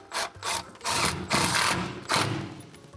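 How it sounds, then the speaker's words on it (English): An impact driver rattles through several short, loud bursts with brief gaps as it drives screws through closet cleats into wall studs, up close indoors. "Grab our screws right here, and we'll go ahead and screw those in."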